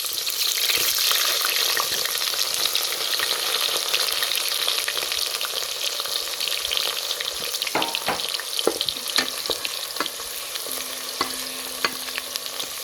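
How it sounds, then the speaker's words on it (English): Onions frying in cooking oil for pilau crackle and sizzle loudly and continuously up close, with scattered sharp pops and scraping stirs growing more frequent toward the end. "So here is our cooking oil. Let's add in our onions."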